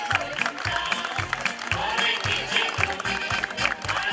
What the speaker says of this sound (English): give Dr. Joy and Anvil a big round of applause